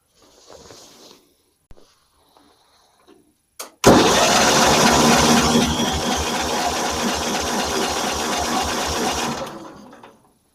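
A John Deere 318 lawn tractor engine cranks over steadily during a compression test, a loud rhythmic chugging that starts abruptly after a few quiet clicks and handling noises, runs for about six seconds, then stops.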